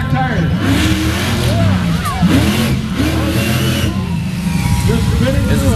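At a county fair freestyle show, a monster truck engine revs hard in rising and falling surges while the tires spin with a whining pitch. The roar is loud and continuous, with crowd noise underneath.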